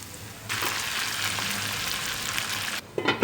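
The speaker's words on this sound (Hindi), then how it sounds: "ये तड़का हमारा रेडी हो गया। अब हम इसको दाल में डाल देंगे।" A hot tadka tempering of spices and garam masala hits a pot of moong masoor dal with a sudden loud sizzle, a steady fizzing hiss that lasts a few seconds before a spoon clinks in the pot.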